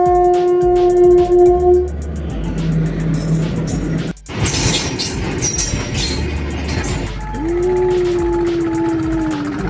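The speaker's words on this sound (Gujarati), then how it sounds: "ये क्या आ रहा है बहुत ही लंबी ट्रेन" A long train rolls past close by, rumbling and clattering with screeching, squealing wheels, a horn-like tone at the start and end.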